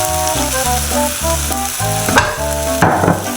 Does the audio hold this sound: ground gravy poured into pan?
yes